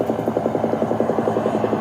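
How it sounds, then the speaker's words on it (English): Helicopter from a Walking Dead episode, its rotor chopping in a steady, rapid rhythmic thump, loud and close throughout with no voices over it. "I take it this is the copter that drew that whole horde towards the farm."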